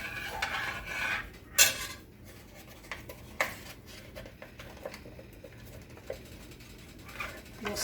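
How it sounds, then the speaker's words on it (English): Metal spoon stirring Sure-Jell pectin into blackberry juice in a pot, with soft scraping and clinking against the pot's sides and a few sharper taps, alone and close. "I need to put in 1 package of surejell."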